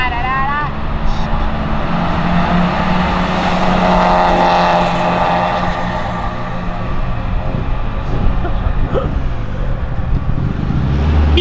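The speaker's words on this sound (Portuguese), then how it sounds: "Filma os carros desfilando, só, mais bonito." Cars drive out of a car show one after another, engines revving and rumbling up close as they pass in a loud, continuous procession, with people talking over the engine noise.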